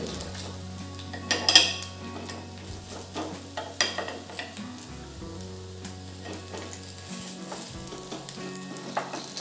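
A Maharashtrian fasting dhirde, a lacy rice-flour pancake, roasting on a pan as it is flipped: steady sizzle under several metal spatula scrapes and clinks against the pan, moderately close, no talking.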